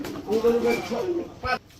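A female Army pigeon gives a short, low, throaty coo up close, followed by a brief sharper note, alone without talk.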